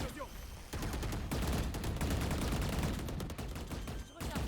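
Rapid gunfire in a competitive video game match, dense overlapping bursts of shots that rattle almost continuously after a brief quieter start, with a short gap near the end.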